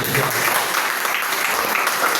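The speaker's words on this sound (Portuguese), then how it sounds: "Aplauda esse Deus, igreja." Church congregation at a Sunday service applauding, a loud burst of dense clapping throughout, with some voices mixed in.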